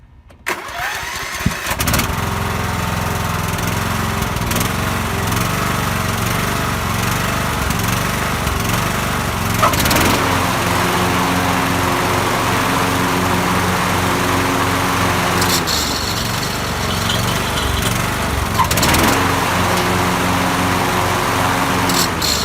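A Toro lawn tractor starts up and runs steadily with its mowing deck cutting, a loud, close, continuous engine drone with slight shifts in load and no talking.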